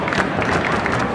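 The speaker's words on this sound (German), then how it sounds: "Das Publikum feiert ihn" A wrestling crowd at a wXw pro wrestling event cheering and roaring in a dense, continuous wall of voices, with a commentator's talk likely mixed into the babble.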